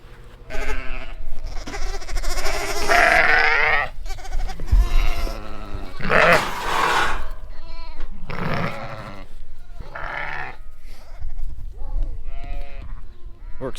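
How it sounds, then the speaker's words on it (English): Sheep ewes and their lambs in a barn during lambing season bleat loudly and often, several overlapping calls close by and others farther off, against steady barn background noise. "I just move the ewes out, then I carry the lambs out."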